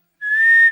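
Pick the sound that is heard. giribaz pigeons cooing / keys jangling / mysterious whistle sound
mysterious whistle sound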